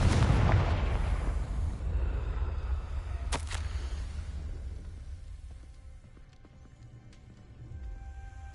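Confringo spell explosion in the Hogwarts Legacy video game, a loud low boom right at the start that rolls away into a long fading rumble, with a brief crackle partway through before things settle quieter.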